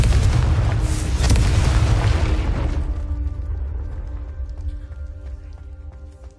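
A deep rumbling blast from the Confringo spell in the video game Hogwarts Legacy, a loud sustained boom for about three seconds that then fades into a low lingering tail.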